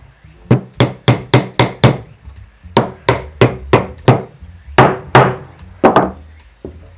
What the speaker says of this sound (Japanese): 単純にこれを金槌で打てばいいんです